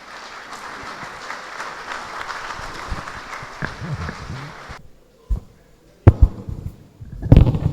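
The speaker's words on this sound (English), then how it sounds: "Please, another round of applause for them." Applause from an event audience fills the first half at moderate volume, then cuts off into near silence broken by a few sharp knocks and thumps.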